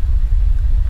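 An erupting volcano gives a loud, deep rumble that stays steady and continuous for about a second, with no voices.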